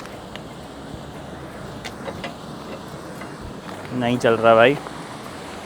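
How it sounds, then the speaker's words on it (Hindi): Steady rushing of a waterfall and flowing river water in a French village, a constant broad wash filling the scene, with someone briefly speaking over it near the end. "यहाँ पे भी झरने की आवाज़ आ रही है"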